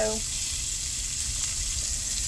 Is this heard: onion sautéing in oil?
yes